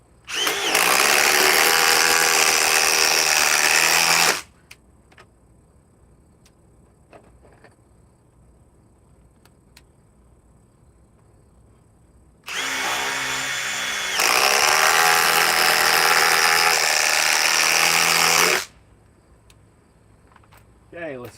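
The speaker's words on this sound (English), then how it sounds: "Impact drivers are always faster than impact wrenches." A cordless impact driver fires in two long bursts of about four and six seconds, loud and close, with a harsh buzzing hammer that cuts off sharply into near silence between runs.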